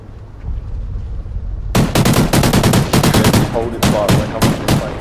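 Rapid automatic gunfire from the online combat game Warhawk, a match of 3v4 Search and Destroy, erupting after a quiet start into loud, repeated close bursts that carry on to the end.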